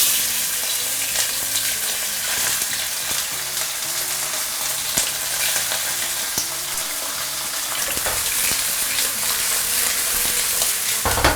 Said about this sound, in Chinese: 煎的方式呢，可以把这个肉多的油脂给它逼出来，就跟炸是一样的